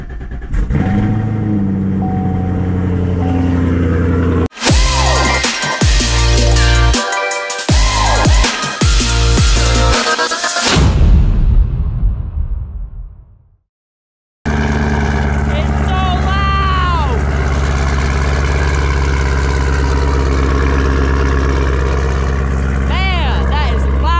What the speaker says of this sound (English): First cold start in a few days.